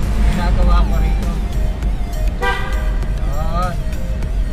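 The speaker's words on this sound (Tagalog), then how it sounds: "Ang ginagawa ko rito, dalawang busina ang ginagawa ko rito." Car horn honking on a road trip from Baguio to Manila on the TPLEX and NLEX expressways, sounding in short toots over engine and road noise while someone talks nearby.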